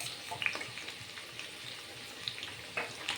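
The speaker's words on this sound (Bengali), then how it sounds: "এবার আদা বাটা দিলাম" Ginger paste hitting hot oil in a pan of fried potatoes for aloo dum, giving a soft, steady sizzle with a few sharper crackles and spits, close and fairly quiet, no talking.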